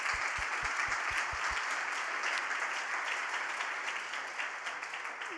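Conference audience at a general assembly session applauding poster and demo presenters, steady broad clapping that holds throughout and fades slightly near the end, with a few low thumps at the start.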